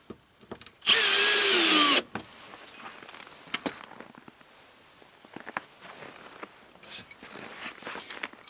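Torx screws going back in on a Can-Am Defender with a power drill: one loud, steady whine lasting about a second, followed by faint handling clicks and taps.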